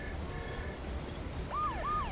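An ambulance siren wails in the prototype video game Wildfire Worlds, faint and distant. Two rising-and-falling sweeps come near the end over a low background murmur.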